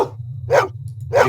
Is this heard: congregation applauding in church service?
no